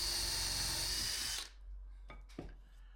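A power drill bit boring a pilot hole and countersinking into wood, a loud steady whine for about a second and a half that cuts off, followed by a couple of faint handling knocks.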